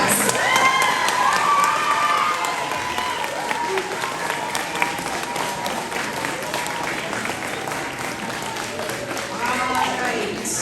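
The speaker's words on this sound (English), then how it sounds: "Let's give them one big round of applause." A crowd of parents and children applauds and cheers for fifth grade students holding award certificates at the Cascade Elementary School Class of 2025 ceremony. Sustained clapping runs throughout, with scattered whoops and children's shouts that rise again near the end.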